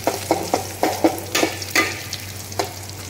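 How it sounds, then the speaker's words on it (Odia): Onion and curry leaves crackling in hot oil for a dal tempering, a loud close sizzle punctuated by rhythmic stirring knocks and scrapes, no talking. "ଏଠି ପିଆଜ ଆଉ ଭେରସୁଙ୍ଗା ପତ୍ର ସବୁ ଏମିତି ଫୁଟଣ ଦେଇଦେଇଛି"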